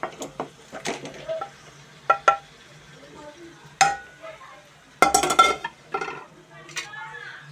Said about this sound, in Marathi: आता हे मॅरिनेट केलेलं दहीमध्ये मॅरिनेट केलेलं चिकन मी त्यामध्ये टाकते